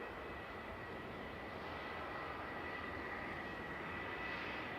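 An airplane passes over Manchester Airport as a steady, distant engine roar with a faint whine, holding level throughout with no talk.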